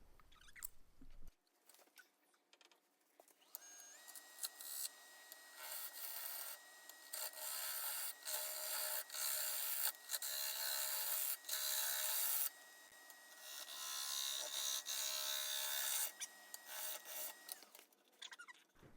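Lathe gouge rough turning a green birch wood bowl, close rasping and shearing cuts in irregular bursts with short pauses, shavings and powder flying, fairly loud and without talk.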